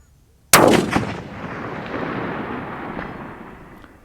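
A Steyr Tactical Elite .308 Win rifle fires once at a long-range target, a sharp loud crack followed by a long rolling echo that slowly fades across open ground.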